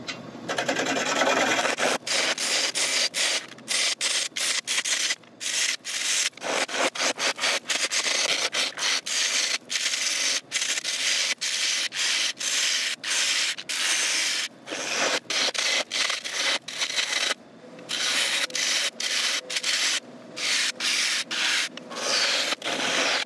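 An ash wood bowl being hollowed on a lathe gives a loud, continuous scraping rasp of the tool cutting the spinning wood, broken by many short gaps, close and without talk.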